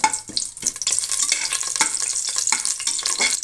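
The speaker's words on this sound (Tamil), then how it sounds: "இப்போ நம்ம தாளிக்கிறதுக்கு முதல்ல இந்த இலை பிரிஞ்சி இலையெல்லாம் கொட்டிடலாம்." Bay leaves sizzling in hot oil as the tempering for a mushroom biryani, a steady close frying hiss broken by clinks and scrapes of stirring, with no voices.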